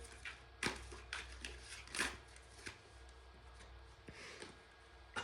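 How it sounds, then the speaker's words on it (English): Oracle and tarot cards are shuffled by hand close to the mic, giving soft papery riffles and light taps spread unevenly across a quiet room. "So let's just see like what we get from the shuffle."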